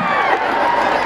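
Audience at a live comedy performance at a Myagdi festival breaking into steady applause and cheering, a dense crowd roar filling the whole moment without a break.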